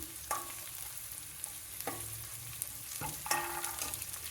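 Chopped onion fries in a pan, a quiet steady sizzle broken by several scraping strokes of a spoon stirring it, close and without voices.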